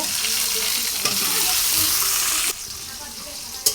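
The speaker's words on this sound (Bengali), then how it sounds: "এবারে কুচি করে কেটে রাখা আমার টমেটোগুলো তেলের মধ্যে দিয়ে দিব।" Chopped tomatoes drop into hot oil with onions already browning, producing a loud, close hiss that swells and then drops sharply partway through, followed by softer frying and a single sharp clack near the end.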